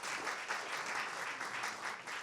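Steady applause from a storytelling-event audience for storyteller Paul, a dense, even clatter of many hands clapping throughout, heard from a moderate distance.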